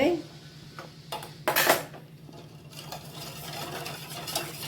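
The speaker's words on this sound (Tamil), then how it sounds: "நல்லா கிண்டி கொடுத்துட்டே இருக்கணும்." A spoon scrapes and knocks against a pot while vanilla custard is stirred on the stove, a few sharp clinks early on, then softer continuous stirring over a low hum.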